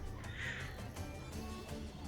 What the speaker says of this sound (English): We've got a lot of loud birds.